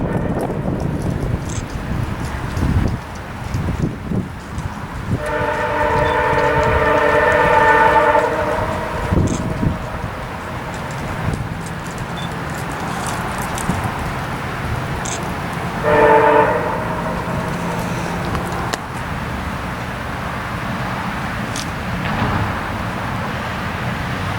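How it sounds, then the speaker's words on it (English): A train rumbles past steadily at Point of Rocks while its horn sounds two distinct blasts for a crossing, one long and one shorter, loud and fairly close over the rolling noise. "Usually on crossings like these, the trains will blow their horns"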